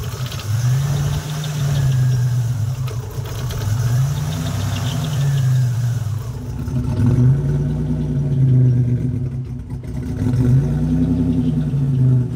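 A Buick Grand National engine, pulled broken from a storage unit, idles rough with a loud, uneven low rumble that surges and sags in a slow repeating cycle, close by and with no talking.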